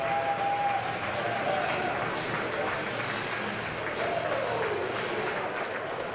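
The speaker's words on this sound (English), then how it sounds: "a small contingent of supporters just below me clapping the Panthers team onto the field" A small group of rugby league supporters clapping the Halifax Panthers onto the field at a Championship match, steady applause under a broad crowd murmur and stadium ambience, with brief tonal whistles or calls audible.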